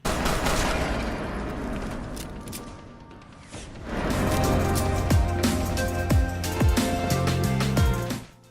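Modded guns fire in Fallout 4, a dense burst of sharp shots and crashing impacts at close range with a brief lull partway, then sustained rapid fire with several descending whistle-like tones.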